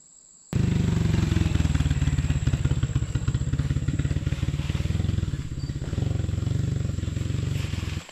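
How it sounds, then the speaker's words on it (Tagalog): A motorcycle engine runs loud and close beside a forest campsite in the early morning, bursting in after a brief quiet moment and droning steadily to the end with a low rumbling throb. "napakarami palang dumadaan na motor dito pag madaling araw"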